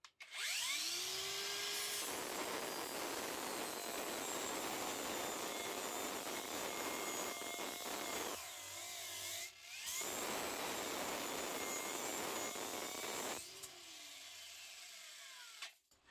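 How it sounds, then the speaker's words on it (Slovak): A Parkside Performance PWSAP 20 Li-C3 cordless angle grinder on a fully charged 4Ah battery grinds with a 40-grit disc, a loud sustained whine in two long runs broken by a short pause, with a quieter spin-down near the end. "Začíname brúsením kotúčom so zranitosťou 40 a 4Ah plne nabitou batériou zo série Performance"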